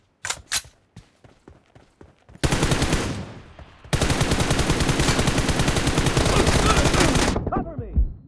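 PUBG team deathmatch gunfire: a few sharp single shots at first, then two long, loud bursts of sustained automatic fire close by, with faint game chatter.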